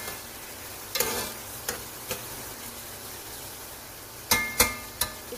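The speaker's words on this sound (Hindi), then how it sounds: "प्याज को हम अच्छे से लाइट ब्राउन कर लेंगे।" Sliced onions frying in plenty of oil in a pot, browning for korma: a soft steady sizzle broken by several sharp clinks and scrapes of stirring, a few clustered near the end.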